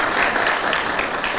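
Audience applause at a Kenyan political gathering, a dense steady wash of many hands clapping throughout the short stretch, loud and continuous.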